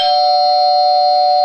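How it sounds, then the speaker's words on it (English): A doorbell rings with one steady, loud electronic chime held for over a second and cut off sharply, close and clear with no talking. "Let's ring the doorbell."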